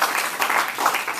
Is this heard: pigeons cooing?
no